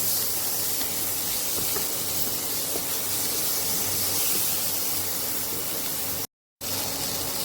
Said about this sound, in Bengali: আমি মশলাটা খুব ভালো করে কষিয়ে নিয়েছি